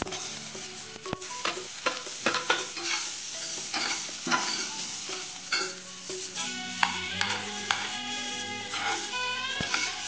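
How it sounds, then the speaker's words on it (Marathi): Potato vegetable filling frying in a pan while being stirred, a continuous sizzle with repeated spoon scrapes and knocks against the pan, close and moderately loud, no talking. "भाजी चांगली हलवून घ्यायची"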